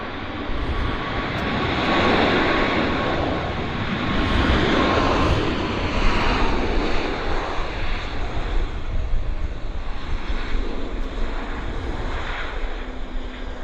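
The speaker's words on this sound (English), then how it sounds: "Nice landing by the Air Canada Max." Air Canada Boeing 737 MAX jet landing at Vancouver Airport, a loud, continuous engine roar with a gently wavering tone that carries throughout without any speech.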